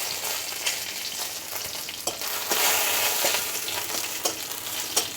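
A torn bay leaf and two dried red chillies fry in oil, giving a steady, close sizzle with intermittent stirring clicks and scrapes throughout and no talking.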